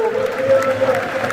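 Stadium crowd at a Brest versus Rennes football derby applauding a substituted player, a brief muffled wash of clapping with an announcer's voice over it.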